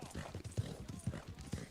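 A horse's hooves clip-clop in a quick, steady rhythm in the Red Dead Redemption video game, faint and low in level, with a hint of voice in the background.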